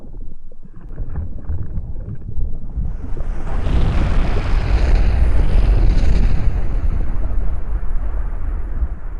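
Baking soda and vinegar snowy volcano erupting, a loud rushing fizz that swells after a few seconds and keeps up a steady, noisy hiss, with no talk.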